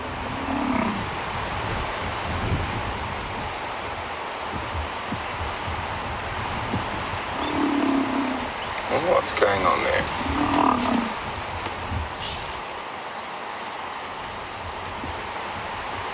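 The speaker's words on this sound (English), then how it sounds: "we heard that groaning from the buffalo" Cape buffalo bulls groan low and throaty a few times while jostling in a group among roundleaf teak and monkey orange thickets on a sunrise safari drive, with a steady wind-like hiss and a person talking over it.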